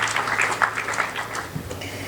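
Audience applause at a press-freedom media awards ceremony, a soft, steady patter of many hands clapping at moderate distance for a couple of seconds with no talk over it.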